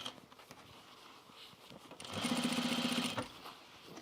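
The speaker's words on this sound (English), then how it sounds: "we're going to understitch this, pushing the facing, or the seam allowance towards the lining" A sewing machine understitching the facing and seam allowance of trousers: a quiet start, then about a second of fast, steady, close mechanical stitching that stops abruptly, with no talking.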